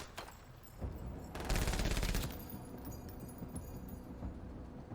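Sustained automatic chain gun fire in the tactical video game MENACE, a dense rattling burst swelling louder for about a second in the middle over a continuous backdrop of combat noise.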